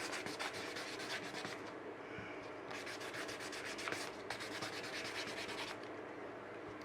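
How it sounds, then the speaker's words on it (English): Hand sanding of an epoxy resin planter with 400 grit sandpaper: quiet, close rubbing strokes in bursts, with a short pause between passes and no talking. "I could do this with this 400 or whatever I've got here in my hand"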